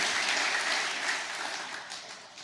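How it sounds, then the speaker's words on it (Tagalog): A church congregation claps together in a dense, sustained burst of applause that stays loud for a couple of seconds and then begins to fade toward the end. "Pakilakas po yung palakpak."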